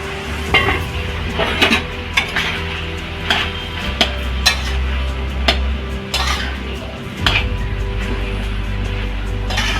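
Metal clatters and clinks from a cooking pot of gourd greens as its lid is lifted, with several sharp knocks scattered over a steady low rumble, close and fairly loud.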